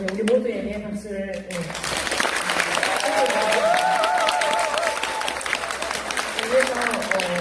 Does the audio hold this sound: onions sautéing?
no